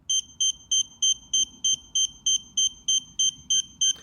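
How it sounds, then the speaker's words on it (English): Regular high-pitched electronic beeps from an IKEA BADRING flood sensor detecting water, about three per second, sounding in a steady pulsing pattern with faint background noise beneath. "if I add the water, it will start beeping."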